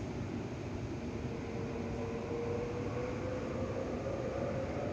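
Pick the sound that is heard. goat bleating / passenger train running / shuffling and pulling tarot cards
passenger train running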